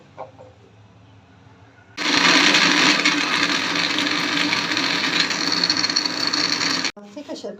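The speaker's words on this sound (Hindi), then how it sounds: "अब हम मशीन चलाएंगे अपनी।" A blender runs loud and steady for about five seconds, whirring through falsa berries with sugar and salt for a sweet sharbat, starting abruptly and cutting off sharply, with quiet kitchen sounds before and after.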